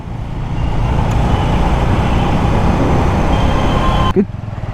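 Motorcycle riding through city road traffic in India, its engine a loud, steady drone that blends with the surrounding traffic noise, ending in a brief bump and a drop in sound.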